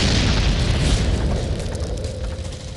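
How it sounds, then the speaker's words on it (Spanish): A rocket launcher round exploding against a PT-76 tank in a Vietnam War battle: a loud, broad blast with a rumbling tail that slowly fades over about three seconds, heard alone with no talk. "Disparamos el lanzacohetes y..."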